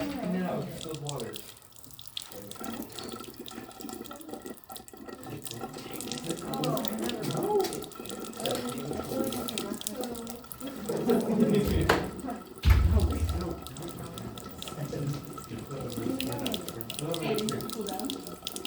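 Water runs from a lab sink tap to cool a test tube, a steady splashing stream that continues under nearby classroom chatter, with clinks of glassware now and then.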